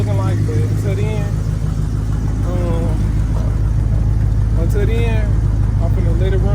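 A wrecked Ford Crown Victoria with a newly installed transmission cooler idles steadily with the AC blower running, a constant loud hum and whoosh under a person talking.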